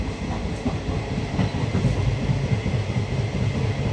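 Steady rolling rumble of the SMVT to Bhagalpur passenger train 06565 running at night, a continuous low clatter of wheels on rail, close and even in loudness throughout with no voices.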